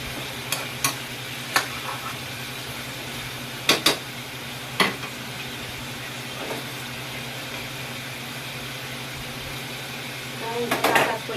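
Adobo with lemongrass, bay leaf and ground pepper browning in a pan: a steady low sizzle under a few sharp clinks of a utensil against the pan.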